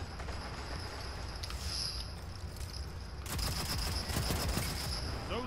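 Rapid, continuous rifle fire from a first-person shooter video game crackles in dense bursts, growing louder and busier partway through.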